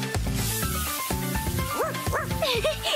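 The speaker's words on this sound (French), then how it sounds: "Et lui, c'est Banco, son chien" A cartoon dog barks and yips in a quick series of playful, high-pitched woofs over bouncy music.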